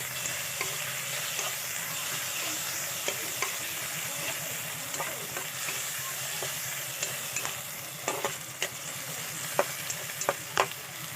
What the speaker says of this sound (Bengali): এবার এর মধ্যে আমি দেবো আদা রসুন বাটা একটু ভালো করে কষাবো